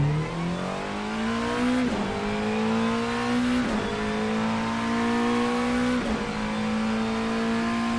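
A race car engine in the Assetto Corsa racing video game revs hard and climbs steadily through three quick upshifts, each gear change briefly dropping the pitch before it rises again, loud and continuous with no voices.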